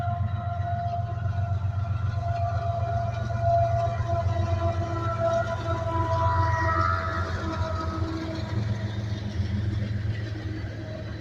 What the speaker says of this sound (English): Southbound coal train.